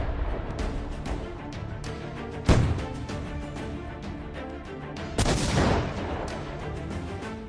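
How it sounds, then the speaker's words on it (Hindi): Iranian cluster-bomb missiles explode over Tel Aviv, two heavy booming blasts standing out against a continuous rumble of distant detonations and crackling bursts, with no talking. "तेल अवीव के आसमान में ईरानी क्लस्टर बम से भारी मिसाइलें कैसे कोहराम मचा रही हैं"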